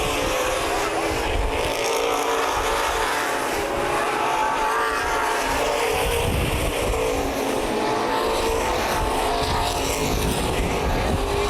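A continuous roar of Open Modified racing engines fills the scene, loud and steady, with a pack of cars droning past together on the oval at Columbus Motor Speedway.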